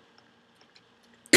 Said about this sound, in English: Sorry if I cough every now and then.